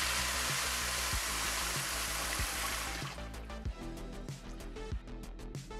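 Water rushes into a Zurn top-mount sensor flush valve on a urinal as the supply stop is opened, a loud hiss for about three seconds that then drops away, leaving gurgles and soft knocks.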